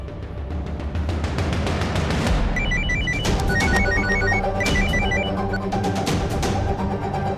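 A telephone rings repeatedly in a steady electronic ringtone pattern, loud and close, over a busy musical background with no talking.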